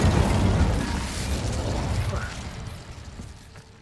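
Casting the Incendio fire spell in Hogwarts Legacy gives a loud, crackling burst of flame with whooshing texture, strongest at onset and gradually fading over a few seconds.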